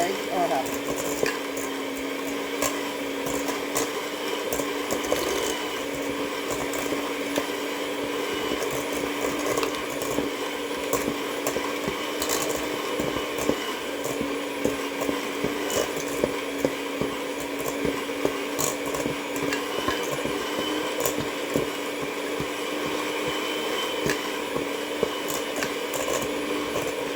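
Electric mixer steadily creaming butter and sugar for chocolate chip cookie dough, a continuous whirring motor drone running unbroken throughout.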